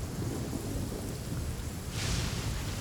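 Rain and thunder in the Genshin Impact video game, a dense steady hiss of rainfall with a low rumbling undertone that swells briefly, fairly loud and continuous with no voices.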